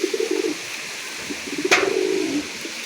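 A male Kaldoma pigeon coos in two short low murmuring bursts, one at the start and a longer one near the middle, with a brief sharp click between them in a quiet space.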